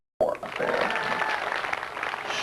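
Audience applause breaks out suddenly at a hypnotist show and holds steady as a dense, continuous wash of clapping from a crowd, fairly loud and sustained throughout.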